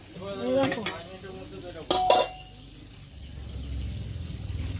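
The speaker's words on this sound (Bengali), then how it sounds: "জল গরম হয়ে গেছে, চাল দিয়ে দিচ্ছি।" Raw rice tipped into a pot of hot water: a brief clatter, then a rising, steady rushing hiss of grains and bubbling water, preceded by a short stretch of talk.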